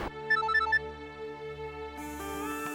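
A phone ringtone chimes a short melodic phrase in repeating bursts, clear and close, over a sustained musical background.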